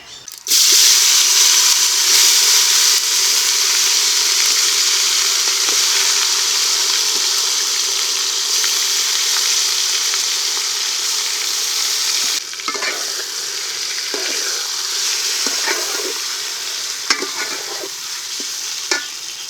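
Marinated chicken hits hot oil with a bay leaf, whole garam masala and cumin, bursting into a loud, dense sizzle that settles into steady frying with occasional stirring clinks.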